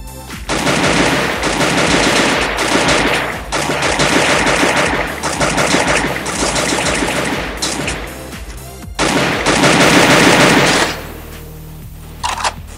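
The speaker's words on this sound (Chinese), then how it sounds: "可以听到我的枪声呢" Rapid automatic gunfire from rifles in the Free Fire mobile battle royale game, loud sustained bursts separated by short pauses, with one final longer burst before fading to quieter background sounds.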